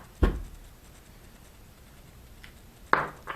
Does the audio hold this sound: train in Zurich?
no